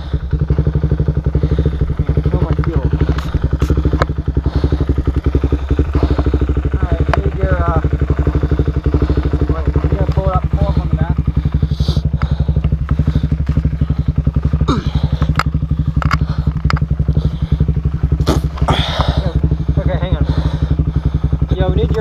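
A Suzuki DR-Z400S or Yamaha WR250R dirt bike engine rumbles steadily and loudly throughout, with clattering and thuds mixed in and voices talking over it.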